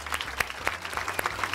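A studio audience at a Turkish quiz show claps in a quick, scattered burst of applause, moderately close with no voices on top.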